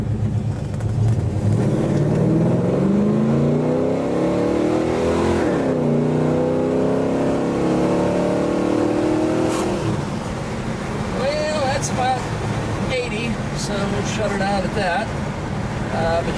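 A 1970 Chevrolet Chevelle SS pulls hard under load, its engine revving up in rising surges with drops as the transmission shifts, close and loud, with some talk over it.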